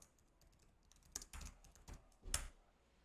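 Quiet keystrokes on a computer keyboard rename a file. A few soft taps come in small clusters, heard close and faint with no talk.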